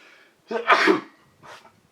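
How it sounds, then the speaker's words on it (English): A single sharp sneeze close up, with a quick breath in before it and a softer exhale afterward. "I totally sneezed"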